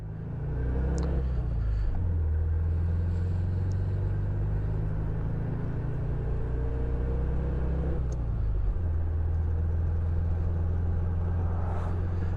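A 1971 Volkswagen Beetle convertible's air-cooled engine held at full throttle on a snowy winter drive, a steady loud droning rumble whose pitch climbs, drops at a gear change, then climbs again, heard from inside the car with no talking.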